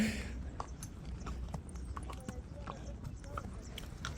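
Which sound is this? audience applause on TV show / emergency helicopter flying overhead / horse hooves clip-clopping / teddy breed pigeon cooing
horse hooves clip-clopping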